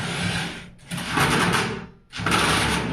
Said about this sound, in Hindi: जैसे ही ये टाइट हुआ स्क्रू ड्राइवर से क्लच की आवाज आ गई है, तो ये बोल्ट कंप्लीटली टाइट हो गया है